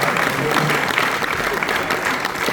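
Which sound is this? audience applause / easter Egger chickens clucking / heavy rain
audience applause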